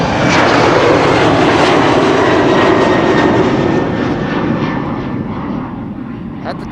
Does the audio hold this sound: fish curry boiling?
no